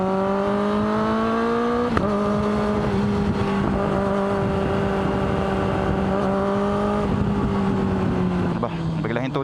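A Kawasaki ZX-10R sport motorcycle revs high and steady under riding, its engine pitch dipping briefly at quick-shifter gear changes, loud and close throughout with no voices.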